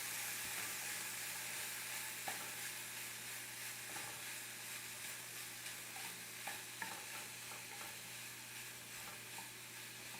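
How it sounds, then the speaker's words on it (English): Continuous crackling sizzle of food frying in a hot pan, with occasional soft scrapes from stirring; no voices. "I hope you can hear the sizzle because it's nice"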